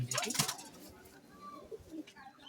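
Pigeons being paired up make soft, low cooing calls, faint and close, mixed with a brief burst of rustling or flapping at the start.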